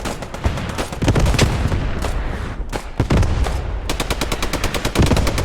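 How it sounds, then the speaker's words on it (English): Dense gunfire and machine-gun bursts crackle in a war video game battle, with heavy booms of falling mortars mixed in, loud and continuous. "Mortars are falling."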